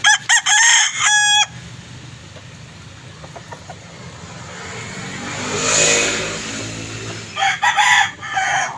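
Roosters crow loudly nearby at the start and again near the end, with a vehicle engine revving and passing in between.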